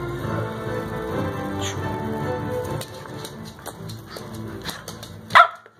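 A street dog barks in a run of close, sharp barks over a busy background, then gives a single loud yelp near the end.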